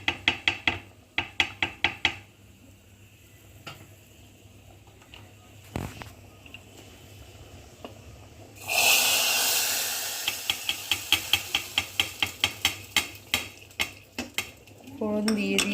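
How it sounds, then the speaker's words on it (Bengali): Spices tempered in hot oil for khichuri, a sudden loud hiss and sizzle bursting in midway after scattered clinks of utensils, then continuing close under repeated stirring taps against the pot. "এবার ফোড়ন দিয়ে দেব।"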